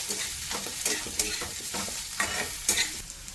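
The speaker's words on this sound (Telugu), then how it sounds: "ములక్కాళ్ళు వేసేసి ఒక్కసారి చక్కగా వేయించుకోండి." Drumstick pieces frying with garlic in a pan for a drumstick curry, a loud continuous sizzle broken by repeated scraping stirs close by.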